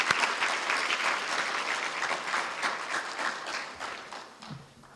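Steady, dense applause from a large audience at a high school graduation ceremony, many hands clapping together continuously before the ovation gradually thins and fades out.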